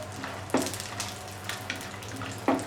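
Almonds and cashews fry in hot ghee in a pan, giving a steady soft sizzle with two sharp clinks of a utensil against the pan, and no voices.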